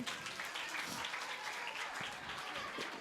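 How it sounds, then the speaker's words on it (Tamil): Audience applause at a children's church vacation Bible school program, a steady wash of many hands clapping fairly faint and distant, filling the hall without pause. "சத்தமாக ஒரு கைத்தட்டல் உங்களுக்கு."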